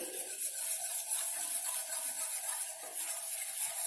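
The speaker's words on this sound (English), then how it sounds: "Mix it again nicely." Steady soft scraping of a spoon stirring seasoned bechamel sauce in a pan, continuous and close, with no voices.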